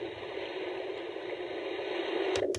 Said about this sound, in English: And then there's the ocean sound,